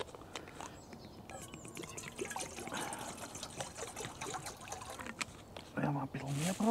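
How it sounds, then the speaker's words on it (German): Water trickles and pours into a cooking pot outdoors, a steady light splashing under quiet background noise, with faint birds and a few brief knocks near the end. "Geben da schon mal einen Schluck Wasser dazu."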